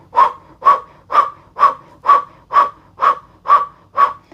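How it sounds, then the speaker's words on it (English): Kundalini breath of fire: nine quick, evenly spaced panting exhales forced through an O-shaped mouth, close and loud, each a short breathy puff about half a second apart. "we will use the breath of fire through the O-shaped mouth"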